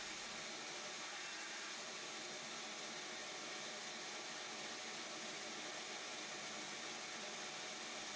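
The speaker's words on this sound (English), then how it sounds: "it sucked in all the wood chips that I picked up from the jointer" A homemade cyclone dust collector draws in wood chips from a jointer with a steady, loud, airy roar like a vacuum, a continuous broadband whoosh with no talking.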